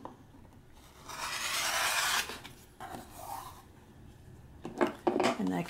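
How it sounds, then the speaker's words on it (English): A paper piecing quilt block is trimmed with a ruler and cutter: a rasping, rubbing cut runs for about a second, then comes a shorter scrape and later a couple of sharper scraping strokes, all fairly close and soft. "And I continue to turn the block around, trimming as I go."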